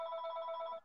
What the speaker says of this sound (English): that's the other phone. Don't pay attention to it.